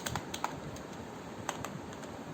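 Fingers tap out PHP code on a computer keyboard, giving a quick, close run of light, uneven keystroke clicks with brief pauses and no talk.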